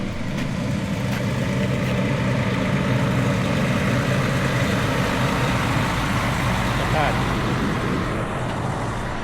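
A septic tank suction truck idles on a flooded neighborhood street, pumping out water with a steady, loud low rumble that runs throughout, while faint voices talk nearby.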